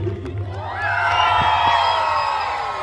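An audience at a folk band performance lets out a swelling burst of cheers, whoops and shouts, loud and lively with no clear speech.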